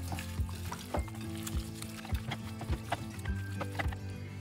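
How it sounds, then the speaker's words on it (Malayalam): Chicken being mixed with Kashmiri chili, garam masala and spice powders in a pan for a Kerala-style roast, with rhythmic scraping and clacking stirs about twice a second over a low sizzle, close and moderately loud. "ഇനി ഇതെല്ലാം കൂടി നന്നായിട്ടൊന്ന് മിക്സ് ചെയ്യാം"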